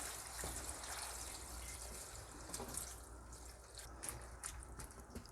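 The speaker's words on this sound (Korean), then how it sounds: "열무가 잠길 만큼 부어주세요." Salt water is poured over young radish in a kitchen to make kimchi. A faint, continuous pouring and splashing runs throughout, quiet and close, with a few soft drips near the end.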